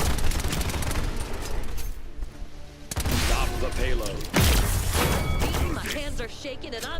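Rapid gunfire bursts and impacts in the Paladins video game, loud and dense with brief lulls, while a player talks over the action.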